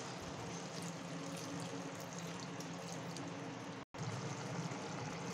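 Water pours steadily into a pan of simmering chicken curry, a quiet continuous hiss and wash with one brief break partway through.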